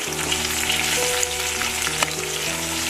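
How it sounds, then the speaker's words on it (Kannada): Curry leaves crackle and fry in oil in a kadai for kadai paneer, a dense, steady sizzle running throughout with faint background music and no voices. "ಸ್ವಲ್ಪ ಕರಿಬೇವು ಹಾಕೋಣ ಈ ಥರ ನಾವು ಆಯಿಲಲ್ಲಿ ಫ್ರೈ ಮಾಡಿದ್ರೆ"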